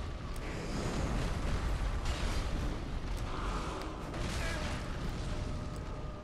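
An explosion attack from Artorias in the Dark Souls video game rolls out as a sustained rumbling boom with crackling bursts, fairly quiet and continuous for several seconds.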